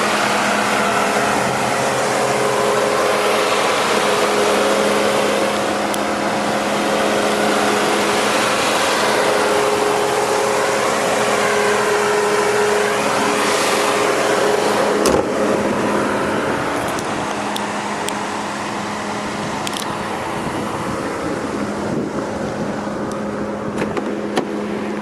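A 2015 Chrysler 200 Limited with a 2.4 liter multi-air 4-cylinder engine idles in a steady, even drone, close and continuous with a slight drop in level partway through.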